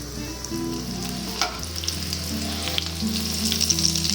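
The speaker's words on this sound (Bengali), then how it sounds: "সবগুলো টিফিন খুব ভালো করে ভেজে নেব।" Potato, cauliflower and egg snacks fry in a pan with a loud, continuous close sizzle and crackle, and a low steady hum runs underneath.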